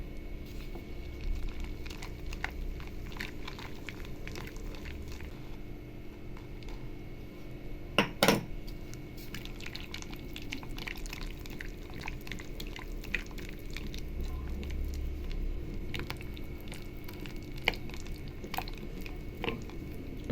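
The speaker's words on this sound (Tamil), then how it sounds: "நான் இப்போ ஆஃப் பண்ணிவிட்டு தான் இந்த மாவை நான் மிக்ஸ் பண்ண போகிறேன்" Ragi flour being mixed into a dough by hand, giving soft, sticky clicks and light taps against a bowl, with a couple of sharper knocks along the way and no talking.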